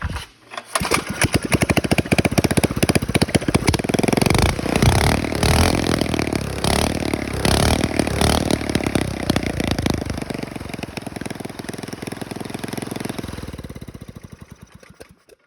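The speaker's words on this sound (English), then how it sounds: "I'll fire it up one more time and shoot a couple more flames for you," Gas engine on a homemade GT Snow Racer toboggan fires up and runs loud and close, sputtering and revving with uneven popping bursts for several seconds before settling and fading out.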